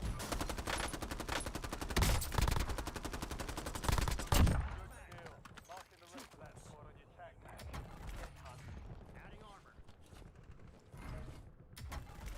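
Rapid gunfire and mechanical clatter in a video game, dense bursts for the first few seconds that thin out into scattered shots over ambient noise, with a voice speaking at points.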